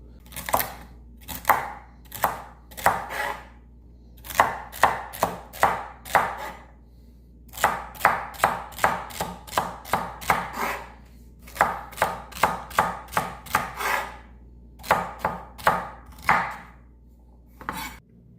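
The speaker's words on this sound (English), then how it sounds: "Now I cut up a couple more stalks of celery, keep them kind of chunky" Celery stalks are chopped into chunks on a cutting board with a knife, giving rapid bursts of crisp, close thuds in uneven runs with short pauses between them, and no voices.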